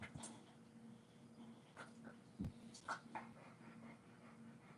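A dog huffs and pants in short, quiet breaths, close by, with a few soft snuffles and faint thumps in a quiet room.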